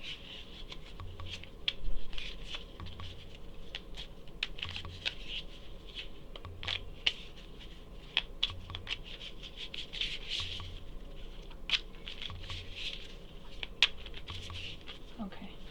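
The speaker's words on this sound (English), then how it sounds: "So I'm gonna shuffle these." Soft, repeated papery riffling and light tapping of 7th Continent game cards being shuffled, close by, in several short bursts over a low steady hum.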